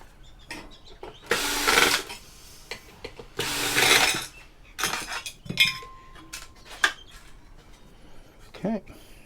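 An extruded aluminium Hawkeye 1000 road survey box being taken apart: two loud bursts of scraping and rattling metal, then scattered clinks, knocks and handling clatter close by, with a voice speaking between the noises.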